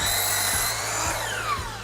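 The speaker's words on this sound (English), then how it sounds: "trim off one end to get it square, then slide down to cut the other end off" A power saw whines steadily through a wood apron piece, with a pitch that drifts downward as the cut goes on. Close, loud and continuous, with no voices.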